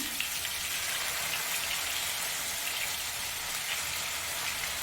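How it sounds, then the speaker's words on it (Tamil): Marinated chicken fries in hot oil in a kadai, giving an even, dense crackling sizzle that stays constant and fairly close throughout, with no voices. "கடாய் சூடு பண்ணி எண்ணெய் சூடு பண்ணிக்கோங்க எண்ணெய் சூடானதும் சிக்கனை ஃப்ரை பண்ணிக்கலாம்"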